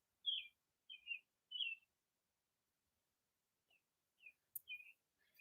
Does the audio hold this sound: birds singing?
yes